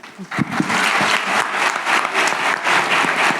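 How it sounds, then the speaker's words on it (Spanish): Audience applause for author Vanessa De La Torre at a book talk, a dense burst of clapping that rises quickly and holds steady, fairly close and loud. "Que suene ese aplauso para Vanessa, por favor."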